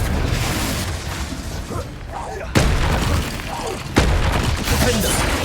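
A Bombarda blasting spell cast in Hogwarts Legacy lands as sudden booming bursts, two sharp impacts over a dense, noisy combat bed, with a voice talking through it.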